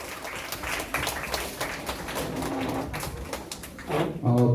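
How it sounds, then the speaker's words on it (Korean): Children in a primary-school church service clap loudly and steadily at close range, a dense patter of applause lasting several seconds, with voices rising near the end. "큰 박수, 큰 박수!"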